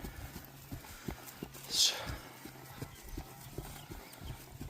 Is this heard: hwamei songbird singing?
no